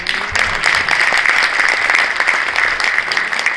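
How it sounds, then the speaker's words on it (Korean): An audience at a Korean election campaign event gives a short burst of steady, close applause, many hands clapping evenly throughout. "박수로 한번."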